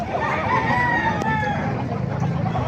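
A Kanawayan rooster crowing at a busy poultry market in Bocaue, one drawn-out crow close by over a hubbub of background voices and other fowl clucking.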